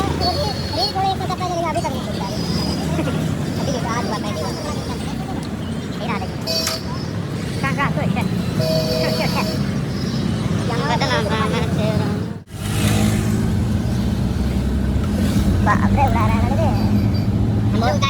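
Road traffic passes by on a city street in Ranchi, a steady rumble of cars and buses with engine noise and honking, while people talk continuously over it.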